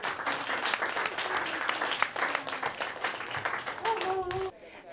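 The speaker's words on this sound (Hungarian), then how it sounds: "A török vezérnek nagy tapsot, Kukorica Jancsinak!" Audience applause for the performers at the Mera World Music festival, with dense clapping filling the first four seconds before tailing off abruptly, with a brief voice and a few tones heard near the end.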